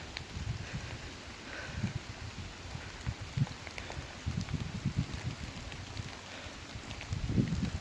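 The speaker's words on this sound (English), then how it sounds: "As you can see, it's raining, which is fantastic." Rain falls steadily outdoors near an overflowing dam, a dense low pattering hiss with scattered heavier drops and gusts, continuous throughout and no voices.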